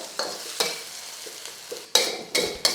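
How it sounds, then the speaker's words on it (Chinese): A spatula scrapes and stirs sardine meat in a frying pan over a steady sizzle, breaking it up in about five sharp, uneven strokes, with the loudest scrapes near the end. "接下来你就用锅铲像这样子把这个鱼肉给弄碎"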